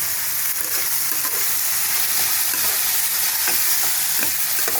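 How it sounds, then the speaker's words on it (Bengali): Papaya flowers fry in a pan with salt and turmeric, a continuous bright sizzle with repeated scraping stirs from a spatula, no talking. "আর হলুদ গুঁড়ো দেবো 1 চামচ, দিয়ে ভালো করে একটু নাড়াচাড়া করে নেব।"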